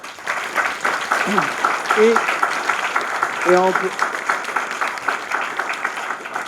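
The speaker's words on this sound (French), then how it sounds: "j'aimerais qu'on les applaudisse très fort" Applause from the audience at an investment conference panel, a steady wash of clapping throughout, with a few voices speaking briefly over it partway through.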